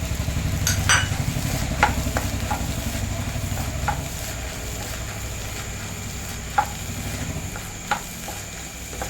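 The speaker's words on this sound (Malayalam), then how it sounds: "നല്ലപോലെ മിക്സ് ചെയ്ത് കൊടുക്കാം മുട്ട നല്ലപോലെ തോന്ന് വരണം" Egg is stirred in a pan with curry leaves while cooking idli upma, with continuous scraping and stirring over a gentle sizzle, punctuated by a few sharp utensil taps against the pan, with no talking.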